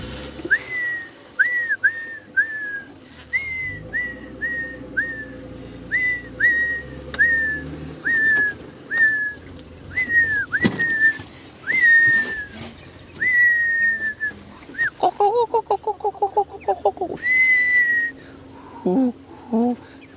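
A person whistling in imitation of a ground hornbill's plaintive call during a sunrise safari drive, repeated short descending whistles in a steady series followed by quicker warbling notes, with faint background sounds between.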